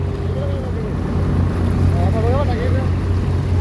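A motorboat runs through floodwater in Punjab with a loud, steady low engine drone and wind rush, while voices talk over it.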